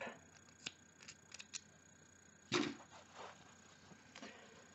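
Scissors snip through knitting yarn in a quiet room, a few soft closing clicks followed by one stronger, near cut.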